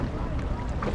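Boat on the water at Big Lagoon, El Nido, heard as a steady broadband rush of hull, water and wind noise, close and continuous with no talking.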